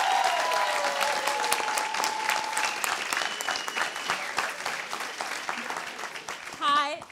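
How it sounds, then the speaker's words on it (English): A conference crowd at a youth session gives dense, sustained applause for an award winner, loud and continuous, with a faint voice over it and some whistling near the end. "So one more round of applause"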